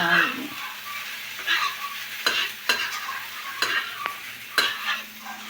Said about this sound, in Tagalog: Si Papa Raul ay nagsasangag.